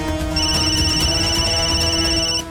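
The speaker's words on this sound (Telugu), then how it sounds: "ఇదేదో ఇంటర్నేషనల్ కాల్లా ఉంది, దీన్ని మిస్ చేయలేను" A phone rings with an incoming international call, a loud steady electronic ringtone with sustained tones that plays alone for about two seconds and then stops.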